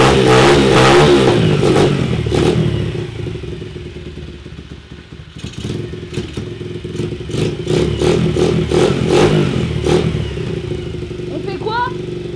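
A motocross bike engine roars and revs close by, then drops to a choppy, sputtering idle with repeated bursts of throttle as people talk over it.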